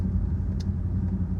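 A vehicle rolling down the road towing a trailer, a steady low engine and road rumble from inside the cab, continuous and fairly loud with one faint brief click partway through.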